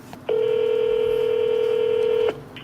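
A telephone dialing a title company's number sends out one long, loud, steady tone lasting about two seconds, sharply starting and stopping over a quiet background.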